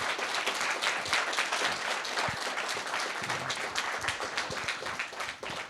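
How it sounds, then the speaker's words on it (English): Audience applause for an honoree at an arts event, a full round of many hands clapping with distinct individual claps, fairly soft and steady before easing slightly at the end. "Please give her a round of applause."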